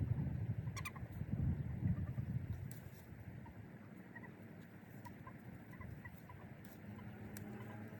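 Chickens moving about a backyard garden, giving a few faint, scattered clucks over a steady low outdoor rumble, with no talking.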